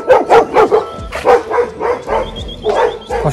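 A pack of dogs barking loudly and close, a rapid run of repeated barks with some overlapping yips, steady rhythm of about three barks per second.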